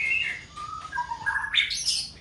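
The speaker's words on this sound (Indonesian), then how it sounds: "murai batu" A murai batu, the white-rumped shama, sings close by in a quick varied run of clear whistled chirps and rising notes, with no other sounds.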